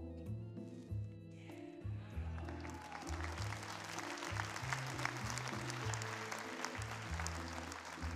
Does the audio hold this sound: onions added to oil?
no